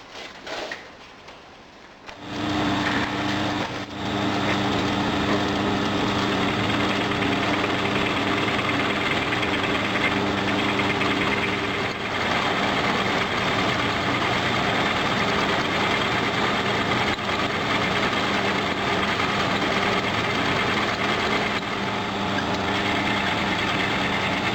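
An iron angle-plate casting being machined on a machine tool, taking a light half-millimetre pass: a loud, steady mechanical drone with tonal hum runs continuously after a brief quieter start, with no talk.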